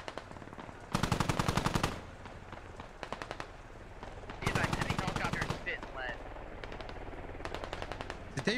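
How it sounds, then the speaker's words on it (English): Automatic gunfire in the military shooter Squad, laid down as suppressing fire: two dense, loud bursts of rapid shots separated by shorter volleys, with scattered single shots and faint background chatter between them. "Get some suppressing fire going."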